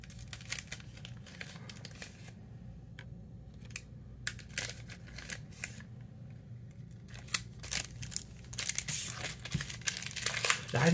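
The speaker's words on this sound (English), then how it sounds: "I have a pair of scissors here." Scissors snip through the packaging of a Grand Archive trading card supporter pack, with crinkling wrapper and sharp cutting clicks that grow denser and louder toward the end.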